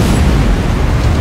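Barrels on a wagon blowing up in a Resident Evil video game, a loud, dense rumbling blast that fills the moment with heavy low booming, close and continuous with no talk over it.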